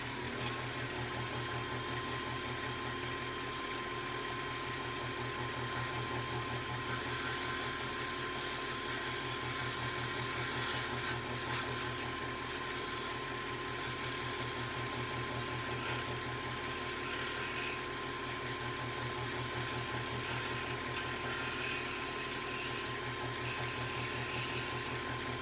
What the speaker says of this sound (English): So anyway, here goes shear scraping.